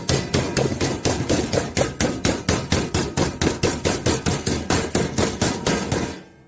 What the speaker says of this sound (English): We can probably use our regular hammer for this part. Hammer that down.